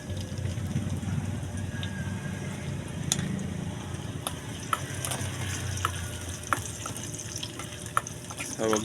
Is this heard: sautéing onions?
yes